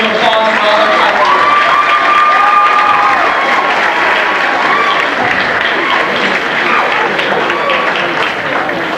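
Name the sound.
applause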